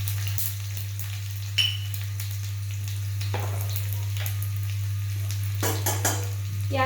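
Finely chopped garlic sizzles in a pan of fenugreek leaf bhaji with a steady close frying hiss. A utensil clinks and scrapes now and then, and a constant low hum runs underneath.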